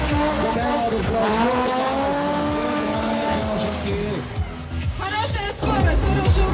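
A drift car at a drift show slides at speed, its engine roaring loudly and close while the tires squeal in long, rising and falling wails, with a commentator talking underneath.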